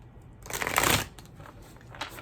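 Tarot cards being shuffled by hand, a soft papery riffle that swells for about half a second and then trails into quieter rustles, close and alone.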